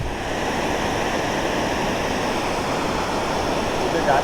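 Loud, steady rush of the Lakshman river pouring over the Shiruru dam waterfall, also called Undavadi Katte, near Mysore. The water roars continuously with no break, and no voices cut through it.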